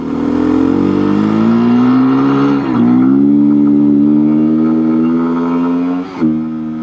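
A Beta 390 RS Enduro motorcycle engine under way on gravel: a loud, steady mid-pitched drone that rises, dips briefly near three seconds and again near six before picking back up, close and continuous with no talking.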